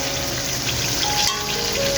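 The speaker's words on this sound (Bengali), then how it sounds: "দেখুন কি ঝুম বৃষ্টি হচ্ছে" Heavy rain pours down steadily, a dense, loud, even hiss of drops that fills the whole moment without a break.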